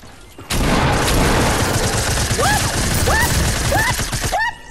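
Dense, loud bursts of gunshots in the battle royale game Fortnite, starting abruptly and continuing as sustained rapid fire with chirping effect sounds over it before cutting off near the end.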